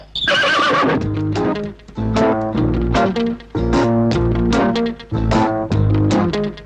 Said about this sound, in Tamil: இந்த குதிரை குறுக்க நிக்குது